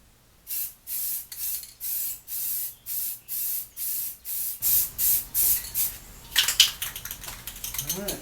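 Aerosol can of high-heat paint sprayed as primer onto a transmission for a K swap CRX, about a dozen close, even hissing bursts in steady rhythm, followed by rattling can and handling noise.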